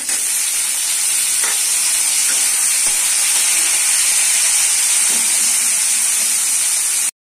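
Chopped tomato goes into onions already frying in a pan, giving a loud, steady sizzle and hiss throughout, with a few faint stirring knocks.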